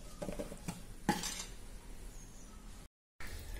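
Five to ten almonds drop into a cooking vessel with a few light clinks and one sharper rattle. The sounds are faint and close in a quiet kitchen, and a brief silence follows.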